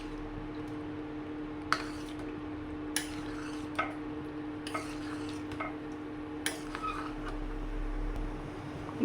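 Spoon stirring tamarind water into a pot of sambar made from leftover vegetables, with soft scraping and a handful of light clinks against the pot over a steady low hum, no talking.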